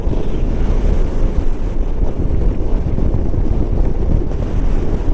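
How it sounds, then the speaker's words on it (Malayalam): Strong seaside wind buffets the microphone near Rameswaram and Dhanushkodi, a steady loud roar with gusty low rumble and a faint wash of surf beneath, no voices. "ആഹാ എന്താ കാറ്റ്"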